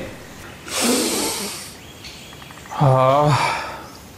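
A sharp, forceful sniff drawn in through the nose, followed a moment later by a brief voiced murmur.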